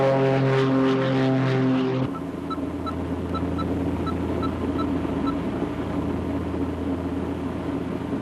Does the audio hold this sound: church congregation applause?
no